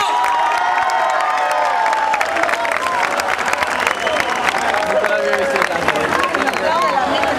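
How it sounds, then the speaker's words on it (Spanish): A festival crowd at an orchestra concert in Oza, Teo cheers, shouts and claps together, a dense, loud and continuous roar with high voices and whoops rising above steady applause, alongside speech. "¿Dónde está el aplauso? ¿Dónde está el agradecimiento del público? ¿Dónde está el grito?"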